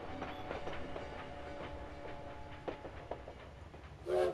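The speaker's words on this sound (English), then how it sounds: "At the train depot in Paris" A train rumbles steadily at a Paris rail depot in the video game Valiant Hearts, with rhythmic clickety-clack of wheels over rail joints and a brief louder hiss at the end.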